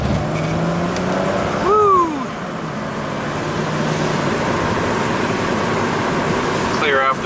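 A Chrysler Crossfire with a V6 pulls away, its engine rising loud and close before settling into a steady drive, with a brief whoop from someone inside.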